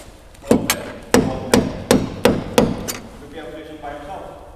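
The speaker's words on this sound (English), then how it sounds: "So we had to use the hammer." A hammer strikes metal parts on a Ford Fiesta ST180 during a VUDU parts upgrade: about seven loud, close, sharp blows in a fairly regular rhythm, followed by a faint metallic ring.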